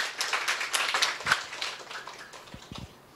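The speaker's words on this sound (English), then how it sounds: "Another round of applause for Amy" Audience applause after a lightning talk, a modest crowd clapping in a loose patter that tapers off, with a few distinct closer claps near the end.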